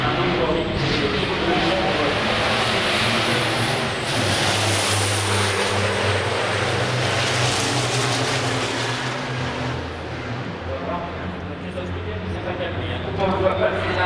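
A racing truck at the Magny-Cours truck Grand Prix rumbles past with a loud, sustained engine drone that swells and fades, under continuous commentary.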